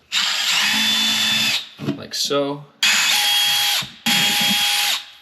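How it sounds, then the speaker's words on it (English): A power drill whirs loudly in three long bursts, pre-drilling holes in a wall for shelving, with a brief spoken remark in a pause between them; close and steady. "I'm gonna pre-drill these holes"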